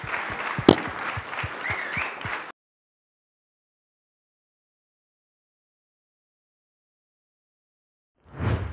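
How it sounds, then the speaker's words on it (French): Audience at a business export event applauds in a short burst of clapping that stops abruptly, followed by long silence and a brief return of clapping at the very end. "Voilà, un grand applaudissement."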